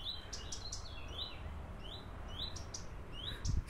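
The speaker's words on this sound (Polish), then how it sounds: "Słyszycie, jak ptaki śpiewają?" Birds chirp and tweet in short, bright bursts over a garden allotment with old apple and cherry trees. The calls are fairly faint and outdoors, spread irregularly over a soft background hiss, with no talking.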